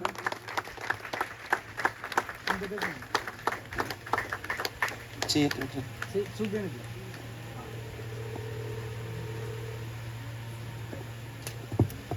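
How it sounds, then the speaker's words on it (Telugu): Guests at an engagement ring ceremony burst into rapid, scattered clapping that lasts several seconds before fading into a steady room hum, with a voice talking over the applause. "బిగ్గిర చప్పట్లు కొట్టండి అందరూ"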